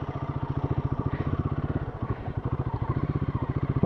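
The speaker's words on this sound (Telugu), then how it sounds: "మా వెనక 2 స్కూటీలు వస్తున్నాయి." Scooters riding on a road toward Dumpavalasa waterfalls near Maredumilli, with a close, steady rhythmic engine chug throughout and a louder burst at the end.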